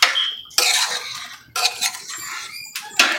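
A spoon stirs gravy in a cooking pot for smothered chicken, giving three bursts of scraping and clinking against the metal with short pauses between them, close and fairly loud with no talk.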